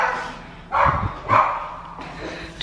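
A dog barks in two short bursts, each a few loud, close yaps, indoors at home, followed by quieter background.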